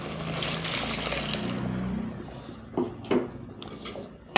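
Hot water pours into a pot of chicken curry with a soft splashing rush that fades out, followed by a few light clinks and taps of metal cookware.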